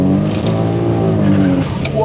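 A Toyota Supra MK4 twin-turbo engine accelerates hard on a straight, giving a loud, steady, rising drone with strong harmonic tone that holds close for about two seconds.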